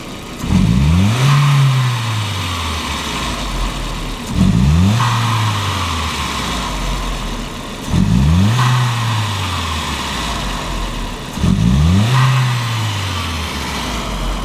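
A 1999 VW Passat 1.8T engine with a faulty MAF sensor is revved four times, each blip rising sharply then sagging back toward idle with a hesitant bog, loud and close.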